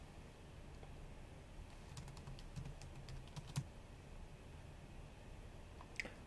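Someone types a message on a computer keyboard into an online learning platform's bulletin board, with quiet, irregular key clicks in short bursts and a louder tap near the end.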